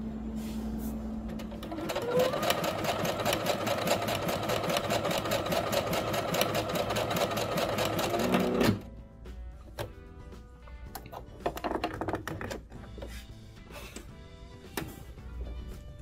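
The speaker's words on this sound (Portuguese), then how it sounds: "eu vou fazer essas amostras de costura para vocês visualizarem no tecido a diferença da largura" A Singer SE9185 sewing machine stitches fabric samples in a fast, even, close mechanical run of several seconds, then stops abruptly, leaving quieter handling clicks and small knocks.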